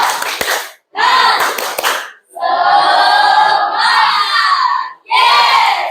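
A classroom of students performs a rhythmic spirit clap, several sharp bursts of unison clapping separated by short pauses, mixed with group shouting, loud and close.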